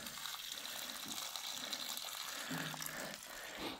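Crystal clear water gushing into a tank inside an abandoned underground mine in New Mexico after a valve is opened, a continuous close splashing flow with slight surges.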